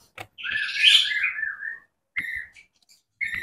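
A bird gives a long, bright, warbling whistle followed by two shorter chirped phrases after a pause, close and clear against an otherwise quiet background.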